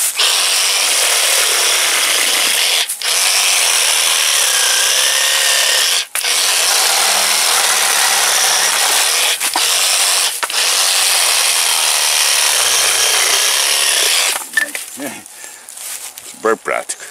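A reciprocating saber saw cuts through the woody stems of a chayote plant with a loud, continuous buzzing drone, broken by a few brief pauses before it stops near the end, when a voice talks.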